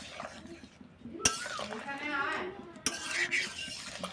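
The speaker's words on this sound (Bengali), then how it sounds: "আলুদমের আলুটা বেশ সুন্দর সেদ্ধ হয়ে গেছে, একটু ঘেঁটে দিই।" Boiled potatoes for aloo dum being mashed and stirred in a pot, with scraping and clinking of a utensil against metal, a couple of sharp knocks, close and moderately loud, with some faint voice-like sound in the background.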